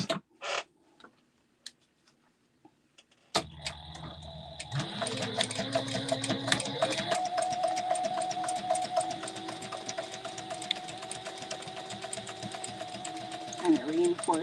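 A sewing machine stay stitches across the end of a retro sling bag made from book-themed fabric panels, starting after a few faint clicks and then humming continuously and loudly up close, with light creaks and no clear talk over it.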